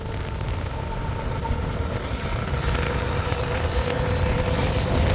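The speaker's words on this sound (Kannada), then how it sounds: "ಟ್ರೈನ್ ಬರ್ತಾ ಇದೆ" A passing train near a village lake rumbles steadily, its broad roar slowly growing louder over several seconds in open outdoor air, with no talking.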